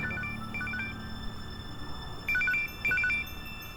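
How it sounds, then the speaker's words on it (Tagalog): A cellphone rings on an outgoing call, heard as faint, repeating electronic ring bursts in short groups over steady background hum, with no talking. "Tatawagan ko si Bogs, ha?"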